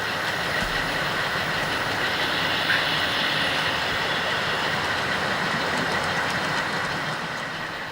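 HO scale model train running on a proto-freelance Western Pacific layout, a steady close whir and rumble of the locomotive with a faint rolling rattle, level throughout and easing slightly at the end.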